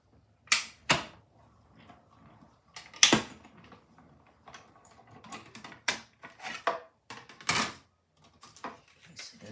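Scissors snip through red and white cardstock pieces for a handmade card, a close, quiet series of sharp irregular cuts with short pauses between them.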